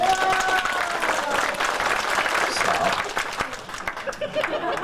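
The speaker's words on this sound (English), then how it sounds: "Applause." A crowd applauding steadily, dense clapping that thins toward the end, with a voice talking over it.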